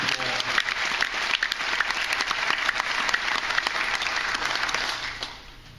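A crowd claps warmly after introductions at a gathering, a thick, continuous patter of many hands that holds steady, then tapers off quickly at the very end.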